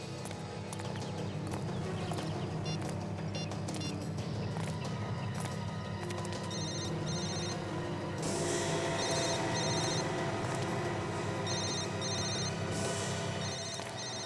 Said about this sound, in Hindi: विवेक, जरा उसको फोन लगा।